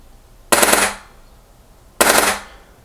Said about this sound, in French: Et là, ça va lancer un cycle de 3 tirs en fait